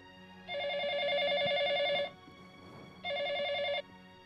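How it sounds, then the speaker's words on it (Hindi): A telephone rings in two bursts, a long electronic trill followed by a shorter one after a brief pause, clear and close. "मैं राजू की बहन रोशनी को फोन कर रही हूँ।"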